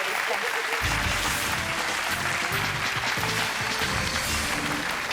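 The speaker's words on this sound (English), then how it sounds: "big round of applause, everyone." Steady applause from a television quiz show studio audience fills the space, a dense patter of clapping that continues throughout with a voice speaking over it.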